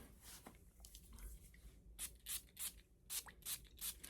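Several quick bursts from a perfume spray bottle, short sharp hisses coming in a rapid series after some faint rustling.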